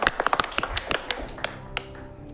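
Audience applause for Betsy, winner of an improv comedy showdown: a short burst of scattered, fairly sparse claps that thins out and fades toward the end, with a little voice underneath.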